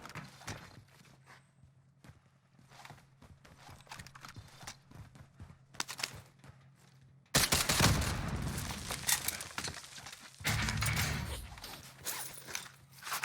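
Rapid bursts of DMR-14 rifle gunfire in a first-person shooter game, loud dense volleys after a quieter stretch of light clicking and footstep-like taps.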